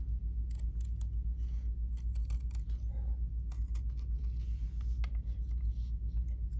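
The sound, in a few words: cutting fabric applique with scissors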